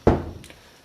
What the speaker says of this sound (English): that's my cat trying to get into the closet